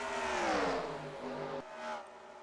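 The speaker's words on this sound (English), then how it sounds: "You just heard right there the idling engine of LaPlante making his way down the back straightaway" A Next Gen Cup race car in a sim race at Michigan, its engine droning along the back straightaway. The pitch sweeps downward, then cuts off abruptly before a short, softer burst.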